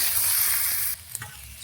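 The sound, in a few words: frying food in a pan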